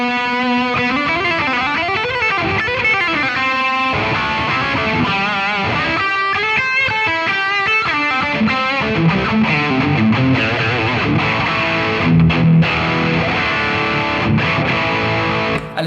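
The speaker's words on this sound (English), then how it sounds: "That's a really versatile high gain pedal." An electric guitar plays through a Boss Katana amp with a high-gain distortion pedal on its blue setting, a continuous loud, saturated run of chords and sustained notes.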